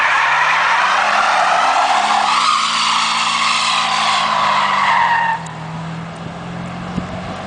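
A 1976 Mercedes 450 SEL 6.9 with its big V8 does a burnout, its tires squealing loudly and continuously as the engine holds high revs, then the screech fades into a lower engine rumble.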